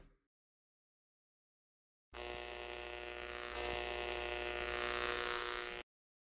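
Radio static interference hum from an audio drama: a steady, loud electrical buzz with a constant tone that starts abruptly, holds for almost four seconds while swelling slightly, then cuts off sharply. No other sound accompanies it.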